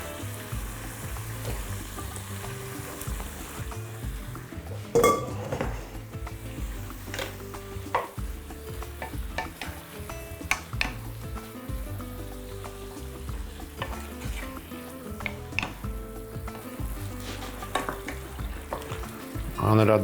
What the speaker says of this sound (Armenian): Լցնում ենք քամված բամյան